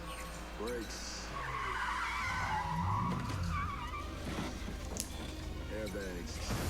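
A car skids with squealing tires under hard braking in a Leverage: Redemption TV drama scene, a loud sustained screech over engine noise with voices heard around it.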